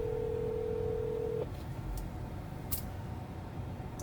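A steady electronic ringback tone of an outgoing call to a Subway restaurant sounds for over a second, then cuts off, leaving quiet line hiss with a few faint clicks.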